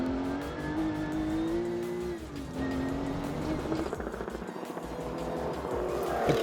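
Porsche 911 rally car leaving the start of a Classic Safari stage, a loud, close engine roar with rising and falling revs through gear changes, sustained and rough throughout.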